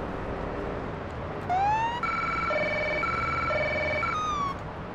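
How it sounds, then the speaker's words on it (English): A police car siren in the video game Police Simulator wails up and then holds a stepped, repeating two-tone pattern for a few seconds before cutting off, clear over a low background hum. "you turn the light and siren on"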